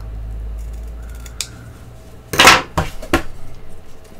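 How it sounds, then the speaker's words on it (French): Scissors snip through patterned scrapbook paper to trim it clean: a few soft rustles come first, then two or three crisp, close cuts in quick succession, with no voices. "il suffit d'aller rogner ça avec une paire de ciseaux pour avoir une finition vraiment propre"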